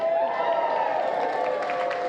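A crowd at an Ohio midterm election night event cheers and claps in a steady, dense roar, with a sustained tone hanging over the noise throughout.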